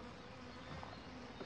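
A steady, dense insect buzz from many honeybees, including drones, in a Dadant hive, continuous and fairly close, with no voices.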